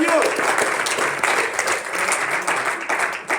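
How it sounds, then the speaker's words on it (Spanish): A church congregation applauds strongly during a pastor's sermon, dense continuous clapping close and loud, with voices mixed underneath. "Vamos, dale un aplauso fuerte al Señor."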